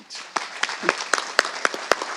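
A small town meeting audience claps for a couple of seconds. The hand claps are sparse and distinct, with some irregular louder claps standing out above the rest.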